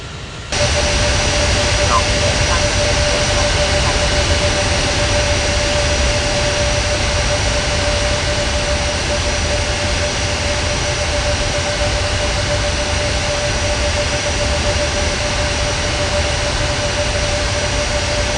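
Sustained roar of airliner jet engines at takeoff power in an air traffic control video game, a loud steady broadband rumble with a thin whine held throughout.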